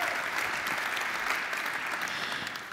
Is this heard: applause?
yes